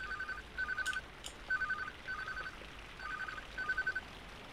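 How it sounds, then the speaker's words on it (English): A telephone rings in a horror video game, a faint electronic bell sounding in short repeated bursts with brief gaps, over a quiet background hum. "Let's just answer the phone."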